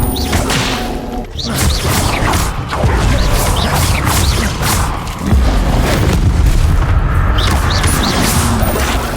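Spell explosions cast in the video game Hogwarts Legacy, loud booming blasts and whooshes layered over a dense, continuous combat roar, with faint voice in the mix.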